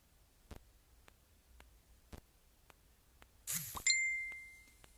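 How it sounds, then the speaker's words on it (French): A phone ringtone chime sounds suddenly during a French makeup livestream, a bright ringing tone that lingers and slowly fades after faint scattered clicks. "J'ai oublié de couper mon sonnerie."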